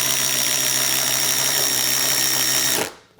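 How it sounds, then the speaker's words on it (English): Ryobi ONE+ HP drill powered by a 4 amp hour battery, a loud high-pitched motor whine held steady for nearly three seconds before spinning down and stopping abruptly. "You could hear a much higher pitch with the 4 amp hour battery."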